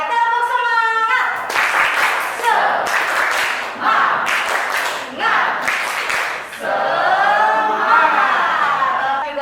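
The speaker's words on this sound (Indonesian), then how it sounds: "Oke, tepuk semangat." Classroom of students doing a rhythmic spirit clap, bursts of clapping broken up by loud group chanting and shouting, close and lively throughout.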